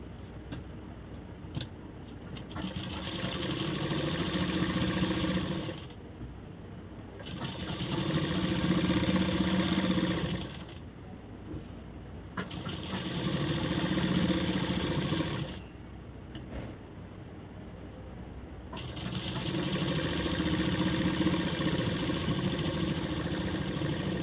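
Sewing machine stitching a shoulder-to-waist dart on a blouse, four runs of steady mechanical whirring and ticking separated by short pauses, near and alone.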